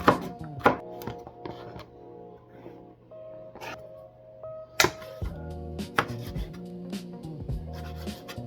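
Knife chopping tomatoes and cucumber on a cutting board in a home kitchen, with a run of close, crisp cuts in uneven rhythm alongside a steady tonal hum in the background, and no talking.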